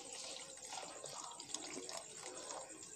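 Water poured into a cooking pot for vegetable soup, a steady splashing, gurgling flow that runs continuously and fairly close for the whole stretch, with no talking over it.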